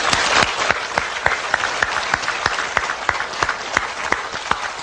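A church prayer-meeting congregation claps together in a steady, rhythmic beat, the sharp claps repeating evenly for several seconds without pause.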